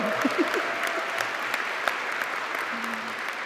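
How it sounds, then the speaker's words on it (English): An audience claps through the whole stretch at a 2022 University of Southern California student recognition awards ceremony in an auditorium, with dense, steady applause and a few voices mixed in. "All right, yeah, let's cheer."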